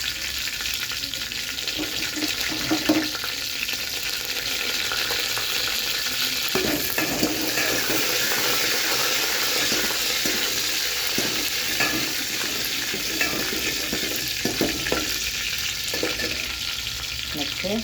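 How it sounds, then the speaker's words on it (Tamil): Mustard seeds, curry leaves and dried red chilies crackle and sizzle in hot oil while a rasam tempering is prepared, a steady close frying hiss with scattered pops throughout and no talking. "போட்டதுக்கப்புறம் நம்ம எடுத்து வச்ச கருவேப்பிலை, வரமிளகாய், கருவேப்பிலையும் போட்டுக்கணும்"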